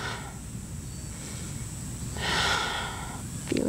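Slow, audible breathing during a yoga twist, heard as soft airy breaths, with a louder exhale swelling in the middle, close and alone with no talking.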